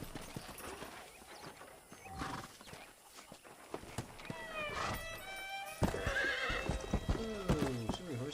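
A horse clip-clops and whinnies loudly nearby in the Western video game Red Dead Redemption, hooves thudding in an uneven rhythm beneath a shrill, wavering neigh, with brief talk alongside.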